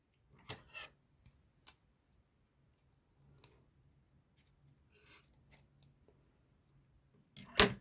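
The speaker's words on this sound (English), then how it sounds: "I'm going to cut the length off." Scissors snip off a length of crochet yarn on a card holder, leaving a few faint, sparse close clicks and snips in near silence, with a sharper snip at the end.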